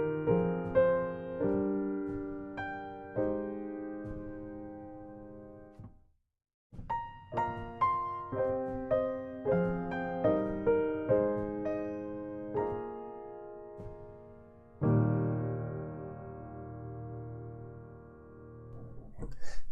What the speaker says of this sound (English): The Emotional piano by Sound Iron is also really beautiful.